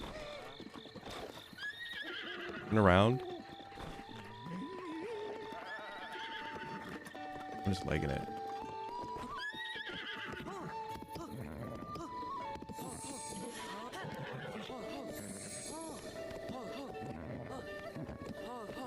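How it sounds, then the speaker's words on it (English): A scared horse in Zelda Breath of the Wild whinnies loudly, then gallops with rapid hoofbeats while someone talks throughout and game music plays underneath. "The horse is just permanently scared here."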